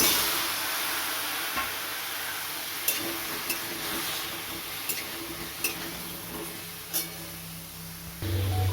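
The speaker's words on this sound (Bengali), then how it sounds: "এটা একটু ভেজে নেব। এবার আমি কেটে রাখা ঝিঙেটা দিয়ে দিচ্ছি।" Chopped ridge gourd frying in a pan with chilli and tomato for jhinge dal makes a low, steady sizzle, dotted with a few sharp clicks and scrapes, and a louder rumble near the end.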